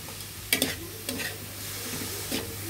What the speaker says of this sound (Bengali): এখানে মশলাগুলো ভালোভাবে কষিয়ে নিতে হবে।